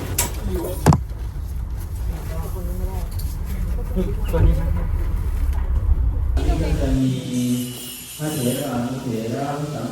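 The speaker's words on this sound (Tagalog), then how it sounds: "Motor sa Thailand." Motorbike riding through Thailand traffic in Bangkok, with a steady engine drone and road noise throughout and vehicles passing nearby, while voices talk over the ride.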